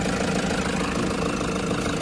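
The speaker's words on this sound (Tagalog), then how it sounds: "Ang ganda ng timing ng engine mga boss." A 15-seater van's engine runs steadily at idle, a close, continuous mid-low mechanical drone with a fine rhythmic knock and no voices.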